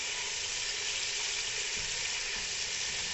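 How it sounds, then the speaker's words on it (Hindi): Potato kofta frying in hot oil give off a steady, close, dense sizzle that holds without pause. "और ये देखें जी, दोनों साइडों से कोफ्ते माशाल्लाह से फ्राई हो गए हैं।"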